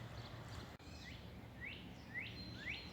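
A northern cardinal sings on a quiet morning bird walk beneath a forest canopy, giving clear down-slurred whistles that repeat in a steady series, faint and distant against soft outdoor ambience.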